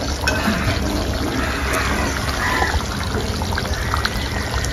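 Water poured into a cooking pot of fish curry being prepared alongside hilsa pulao, a steady broadband pouring rush lasting throughout, close and fairly loud with no talk.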